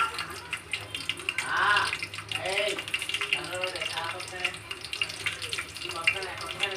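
Green chillies sizzle in hot ghee and oil with a steady, close crackling hiss for a mint and coriander biryani, while a voice talks over the frying.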